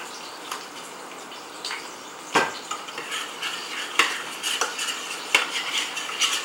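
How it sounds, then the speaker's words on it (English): A spoon stirs chocolate sauce with a dash of vanilla in a pot, giving soft scraping swirls broken by a few sharp metallic clinks against the pot's side, close and fairly quiet with no talking. "I'm just going to add a dash of vanilla in each pot and then stir it"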